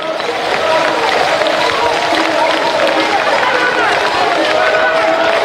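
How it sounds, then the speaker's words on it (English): Crowd at the ASAC 2026 athletics championships applauding the women's 5,000 metres winner, a dense, steady roar of clapping and cheering that holds loud and unbroken throughout. "Big applause for Emmeline"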